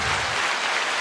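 Applause sound effect: a short burst of dense, fairly quiet clapping, crowd-like and steady, alone without talk.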